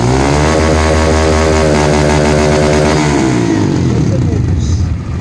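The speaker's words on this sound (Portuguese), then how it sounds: "Até o motor alcançar o corte de rotação original." A fuel-injected Honda Titan motorcycle engine revs hard and holds near its rev limiter, a loud steady whine with stuttering cut-out, then the engine drops back and idles roughly.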